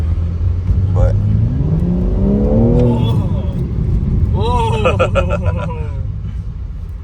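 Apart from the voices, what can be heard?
BMW car engine revving through aftermarket exhaust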